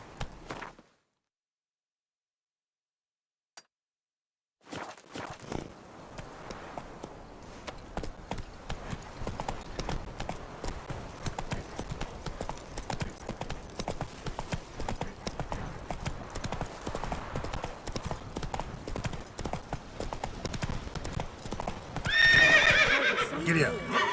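A horse in The Witcher 3 gallops with rapid, continuous clip-clop hoofbeats and lets out a loud neigh near the end, following a brief near-silent stretch at the start.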